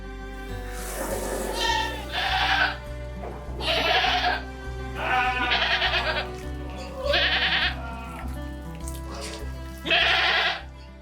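Goats on a dairy goat farm bleat repeatedly, several loud, close calls spaced a second or two apart over a steady low hum.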